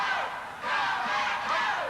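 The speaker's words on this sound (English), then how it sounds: "a crowd really in Matt's corner right now" A crowd at a 1990 Texas Championship Wrestling bout shouts and cheers in loud, surging waves that rise and fall, with no clear single voice above it.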